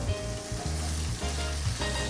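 Whole garlic cloves sizzle and fry in a pan alongside other vegetables, a steady crackling hiss close by, with low bumps from stirring or the pan shifting.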